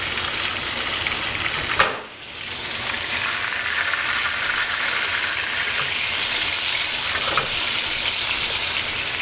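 Meatballs brown in a frying pan with a steady, loud, close sizzle that runs throughout, briefly broken once by a sharp clank and a dip in the hiss.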